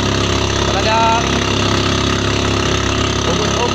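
Motor boat engine running at sea on a fishing trip in the rain, a steady mid-pitched drone that fills the whole clip, with faint voices underneath.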